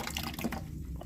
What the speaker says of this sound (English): I open up the drain valve just to let some of the dirty water out